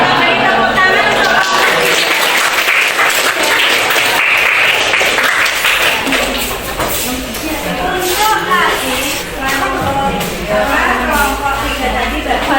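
Audience applause after a group presentation in an academic supervision session, a dense, steady wash of clapping running throughout at close range, with some voices mixed in.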